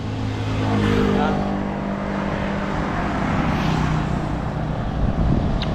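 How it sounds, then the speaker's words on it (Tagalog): A Yamaha Mio i 125 scooter engine hums and revs close by, a steady droning tone that shifts slowly in pitch over a rough roadside background. "Motor, bugbugin motor."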